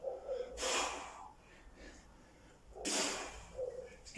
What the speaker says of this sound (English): I'm double breathing now.